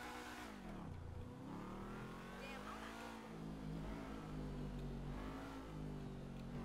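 A Dewbauchee Seven-70 sports car in GTA 5 revs and accelerates with a rising, shifting engine tone, close and steady, while someone talks over it.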